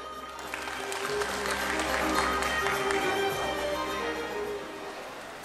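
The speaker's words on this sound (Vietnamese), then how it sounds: "hãy dành một tràng pháo tay thật lớn để chào mừng sự hiện diện của các quý vị đại" An audience at the opening ceremony of a police arts festival bursts into sustained applause, loud and continuous for several seconds before it fades out.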